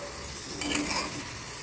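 Eggplant and spices fry in a pan for a shrimp and eggplant dish, giving a steady close sizzle with a brief stirring scrape.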